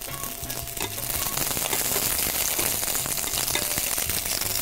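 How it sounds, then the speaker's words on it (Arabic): Garlic and onion fry in a pan with a steady, close, crackling sizzle that grows slightly louder and holds evenly throughout, with no talking. "نحن عم نقلي الثوم والبصل"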